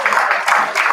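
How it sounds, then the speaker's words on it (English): Applause from an audience at a Pacific Islander cultural festival event, a short, close burst of many hands clapping that pulses in brief waves. "One more round of applause, please."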